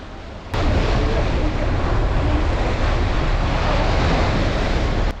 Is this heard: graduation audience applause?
no